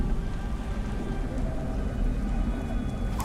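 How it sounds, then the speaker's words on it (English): Steady rainfall in the video game Beyond: Two Souls, a constant hiss of drops on surfaces with a low rumbling undertone, continuous and fairly close. "God damn rain."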